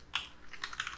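Code being typed on a computer keyboard, a handful of quick, light key clicks in a brief, uneven burst, close and quiet with no speech.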